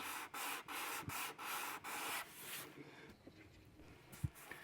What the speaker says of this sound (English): And then we'll sand the whole thing with 320 and then, I don't know, 800, I guess.